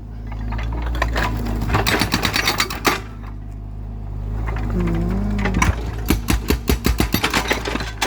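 Excavator digging up a road surface: a loud, continuous low engine rumble with bursts of rapid rattling, clanking hits as the bucket breaks material, plus a brief tonal hydraulic whine in the middle.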